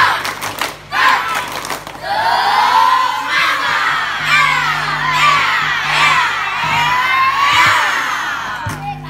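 A mixed group of men, women and event organizers at an Indonesian ice-breaking game session gives a loud group spirit clap and shouting, with crowd cheers and whoops filling a room, near and sustained, with a leader's voice calling out.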